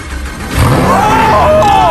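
A Lamborghini engine turning over and revving up, loud and close. The start comes after a brief quiet lead-in, followed by a rising whine and a sustained roar.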